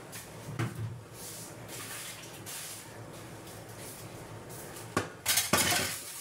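Someone clears dishes, pots and cutlery in a home kitchen, with soft clinks and scrapes throughout and a few sharper metallic clatters near the start and end. It sounds close and moderately quiet.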